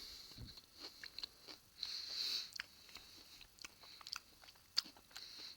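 Chocolate bar spread with a malty honeycomb bit is bitten and chewed up close, giving soft wet crunches and clicks in an uneven rhythm with faint sniffs between them.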